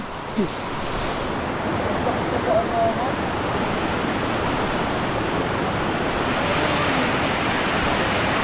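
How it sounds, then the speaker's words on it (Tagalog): Steady broadband roar of a waterfall at a swimming spot in Tanay, loud and continuous throughout, with a few brief shouts and voices over the rushing water. "Talon!"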